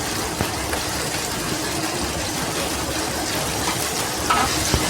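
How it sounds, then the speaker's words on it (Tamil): Masala-coated eggplant pieces fry in hot oil with a steady, dense sizzle that holds throughout, close and even, with a few faint clinks and stirring sounds near the end. "இப்போ நம்ம பேஸ்ட் பண்ண மாதிரி கத்திரிக்காவை போட்டோடனே இப்போ வந்து நல்லா ஒரு கொஞ்ச நேரம் வந்து அதை வதக்கலாம்"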